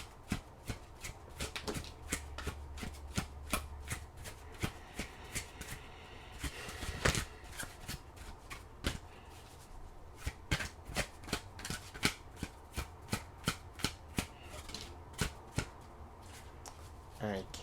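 Tarot cards are shuffled and drawn by hand, a run of crisp riffling flicks and slaps with one louder burst midway, close and fairly quiet with light talk now and then.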